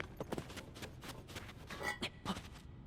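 Mountain horses in Zelda: Tears of the Kingdom, faint irregular hoof clip-clops thudding in a loose trotting rhythm, soft and somewhat distant.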